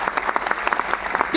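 An audience claps in a quick, dense burst that lasts just over a second. The sharp, rapid claps sound close and lively.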